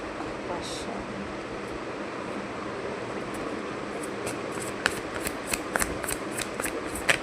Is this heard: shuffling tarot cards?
yes